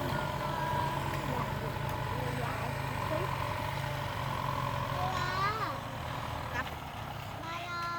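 A Kubota M9540 tractor plowing a rice field gives a steady, loud engine drone with occasional shifts in pitch while someone talks over it.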